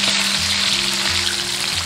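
Stingray pieces are fried a second time in hotter oil to crisp the skin, producing a loud, continuous close-up sizzle and crackle without pause or voices.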